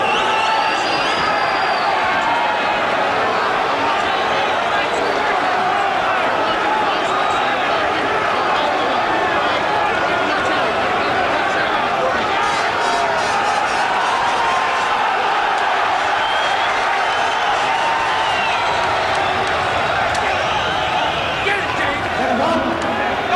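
A packed boxing arena crowd roars continuously for Frank Bruno's fight against James "Quick" Tillis, a dense, loud wall of cheering and chatter that holds steady throughout.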